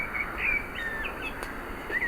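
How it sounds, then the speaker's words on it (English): Several birds chirp in short, bright calls scattered through the clip over a steady outdoor hum in an English village, with no one talking. "A lot of birds."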